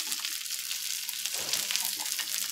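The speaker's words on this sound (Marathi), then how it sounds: "मस्त अशी आपली बोई मच्छी दोन्ही साइडने आपण तळून घेतलेली आहे, फ्राय करून घेतलेली आहे" Boi mullet fish fry in a pan, a continuous soft hiss and sizzle held at an even, fairly quiet level throughout, with no talking.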